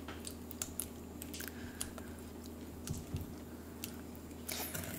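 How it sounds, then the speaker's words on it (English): Molasses crinkle cookie batter stirred in a bowl during fall baking gives soft, close squishing and sticky scraping strokes in an uneven rhythm, with faint higher clicks of the utensil, no voices. "And I'll give that a stir again."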